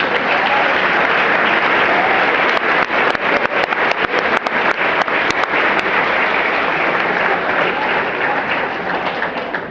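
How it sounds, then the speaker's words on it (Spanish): A church congregation breaks into loud, sustained applause, a dense wash of many hands clapping close and steady for the whole stretch, with a few sharper individual claps standing out near the middle before it thins slightly toward the end. "¿Qué tal si le da un aplauso al Señor por eso?"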